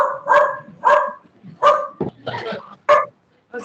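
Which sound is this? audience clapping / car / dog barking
dog barking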